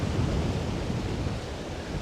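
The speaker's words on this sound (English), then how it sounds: "Wind is really, really strong coming out of this direction here" Strong wind buffets the microphone on a winter beach at Coney Island, New York, a steady low roar with surf blended in, continuous and fairly loud with no talking.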